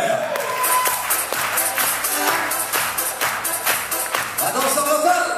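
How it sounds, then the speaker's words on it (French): Audience applause in a show hall after an oriental dance number, dense and steady clapping with crowd noise throughout, loud and close. "Beaucoup d'applaudissements s'il vous plaît."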